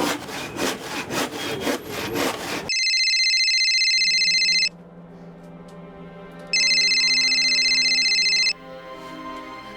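A mobile phone rings in a TV crime drama scene, two sustained electronic ring bursts a couple of seconds each separated by a pause, following a rough scraping noise, with a low background hum between rings.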